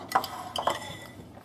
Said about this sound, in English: want to mix this together. This is your streusel topping.